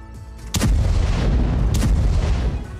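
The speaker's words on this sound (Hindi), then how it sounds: "यूक्रेनी सोल्जर्स M777 तोप से रूसी ठिकानों पर भीषण बमबारी कर रही हैं" An M777 howitzer fires twice in a war zone, each shot a sharp, loud boom followed by a rolling rumble. The two blasts come about a second apart and stand alone with no speech.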